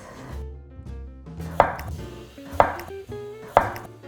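A knife slices squash (Korean hobak) into half-centimetre rounds on a board, giving three sharp, evenly spaced chops about a second apart, close and distinct over a low background.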